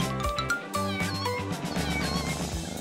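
A cat meows repeatedly in short, tonal, drawn-out calls, close and fairly loud, with no talk.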